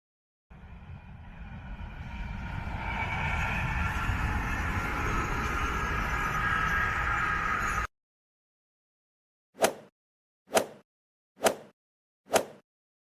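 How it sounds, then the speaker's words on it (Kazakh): An animated white high-speed train rushes past in a steady, loud whoosh for several seconds, then cuts out; four short, separate clicks follow after a pause. "Дұрыс, бұл ақ түсті жүрдек пойызы"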